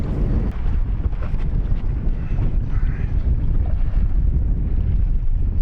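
Strong wind buffets a fishing boat drifting on a lake, a steady low roar of wind across the microphone with faint lapping water beneath, continuous and loud throughout.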